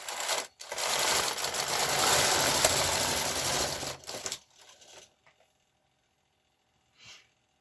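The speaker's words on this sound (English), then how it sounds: "Now we're going to knit across." Knitting machine carriage pushed leftward across a 2x2 rib sweater back at tension 6, a loud continuous rattling clatter for about four seconds, then quiet with a few faint clicks and one brief rustle near the end.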